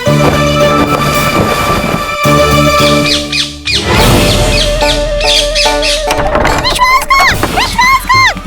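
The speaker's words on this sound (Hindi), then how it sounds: "तोता मिल गया, तोता मिल गया।" A parrot gives loud, harsh squawks and rising chirpy calls in quick bursts, set against a busy background of tonal sound and thumps.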